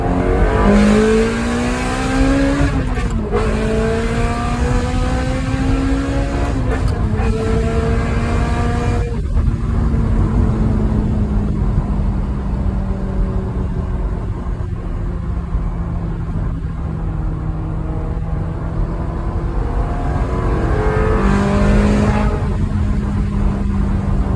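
A car engine idles with a steady rumble, revs up sharply several times early on, then settles into a long sustained drone before revving again near the end.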